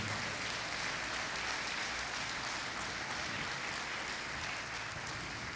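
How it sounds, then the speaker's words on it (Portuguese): A church congregation at a morning service applauds in a broad, even wash of clapping that stays steady and somewhat distant throughout. "Quem pode aplaudir a Deus desta manhã?"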